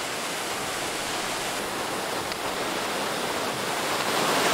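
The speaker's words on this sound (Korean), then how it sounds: "거대한 두 개의 폭포를 만났습니다" Steady roaring rush of falling water, loud and constant with no pauses, from a large waterfall in the Blyde River Canyon, South Africa, heard from close by.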